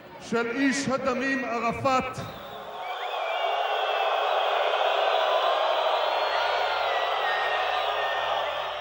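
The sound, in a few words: crowd cheering at a political rally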